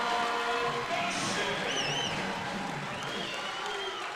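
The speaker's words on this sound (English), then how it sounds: "Crowd getting involved now." A college basketball crowd at a packed arena cheers and applauds in a steady roar, with whistles and shouts rising above the noise.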